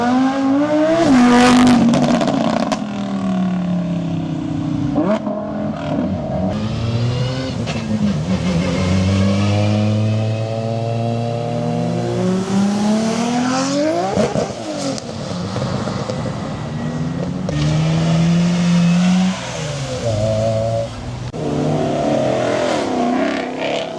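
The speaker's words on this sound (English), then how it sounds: "It's 8 o'clock, so the cars are heading out." Cars leave a street car meet one after another, engines revving hard with rising and falling whines as each accelerates away, loud and close at first, overlapping throughout with no talking.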